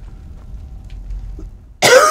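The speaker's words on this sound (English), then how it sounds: "Have a bit of a cough, still recovering from the flu" One sharp, loud cough from a person recovering from the flu bursts out near the end after a quiet stretch of faint background hum.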